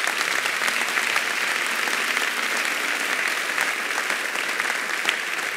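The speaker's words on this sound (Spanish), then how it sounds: "Dale un aplauso al Señor." A church congregation claps together in dense, continuous applause, a steady even wash of many hands at fairly close range with no gaps.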